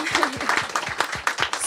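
A crowd applauding and cheering, dense overlapping claps with whoops and voices mixed in, fairly loud and steady throughout.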